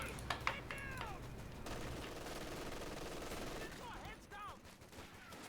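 Machine gun fire in Company of Heroes 2, a real-time World War II strategy game, as sustained bursts of rattling gunfire that carry through most of the stretch amid dense battle noise, with brief whistling sweeps near the start and end.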